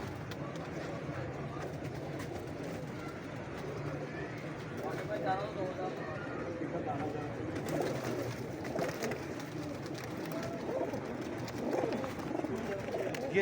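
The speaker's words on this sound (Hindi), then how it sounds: "ये कबूतर हैं" Pigeons coo softly and repeatedly close by while people talk in the background, at a pigeon dealer in Lahore.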